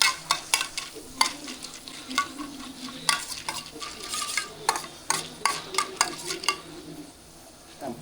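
Cloves frying in ghee in a pan for boondi laddus, a soft sizzle under frequent sharp scrapes and clinks of a spoon stirring against the pan, close up, easing off near the end, with no voices.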